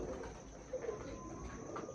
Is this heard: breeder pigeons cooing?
yes